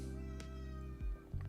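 A pet cat meows in a living room, a short cry or two standing out against a steady background hum, with no talking.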